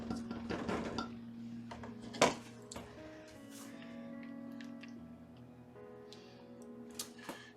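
A utensil stirs shea butter and glycerin into a soap mixture in a container, producing light clinks and scrapes, with a sharper knock early on and a faint ringing tone lingering underneath.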